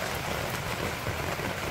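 Rain falls steadily on surfaces in a Bangladeshi village, a dense, even hiss of drops with no voices.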